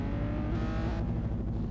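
An SR20-powered drift car idles in Forza Horizon 2, its loud exhaust giving a steady, rough, low rumble that holds continuously throughout.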